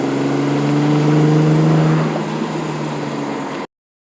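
A 1998 Ford Explorer with a 4.0 SOHC engine and a Thrush muffler runs with a steady, droning exhaust note that swells slightly, eases off after a couple of seconds, then cuts off abruptly.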